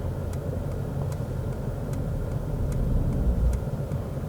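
Mercedes S580 4MATIC S-Class creeping forward during automatic self-parking, a steady low engine and road rumble with faint tyre and suspension ticks, close and continuous with no talk.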